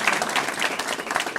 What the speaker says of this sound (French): je vais commencer à laisser la parole à Florence Bourget sur la démarche RSE, que vous allez déjà applaudir